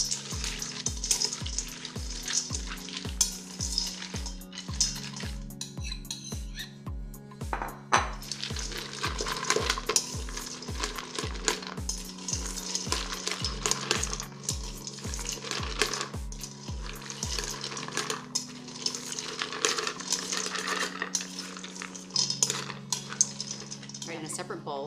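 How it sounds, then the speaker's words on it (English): Nuts stirred with egg white and water in a bowl, a long run of close clattering and scraping, regular knocks early on easing into continuous rattling. "coat the nuts first with the egg white in the water. Stir them around."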